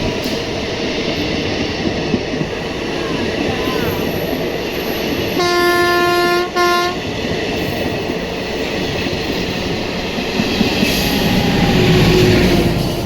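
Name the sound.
Kurnool City–Nandyal DEMU passenger train departing station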